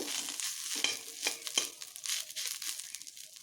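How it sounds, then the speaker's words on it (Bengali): Moringa leaves and potato fry in a pan, giving a soft, faint sizzle with light crackling and occasional stirring scrapes; no voices. "এই আলুর সঙ্গে সজনে পাতা যে ভেজে নিয়েছি"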